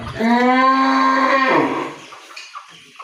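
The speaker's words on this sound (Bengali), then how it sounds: "আপনারা দেখতে পাচ্ছেন একটি সার গরু" A farm bull gives one loud, close moo lasting over a second, followed by faint rustling and small knocks.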